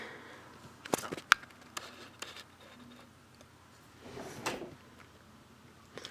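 Bedroom storage drawers built under a bed slide and knock as they open and close, a few sharp thuds and scraping rumbles separated by quiet pauses, close by and with no talking.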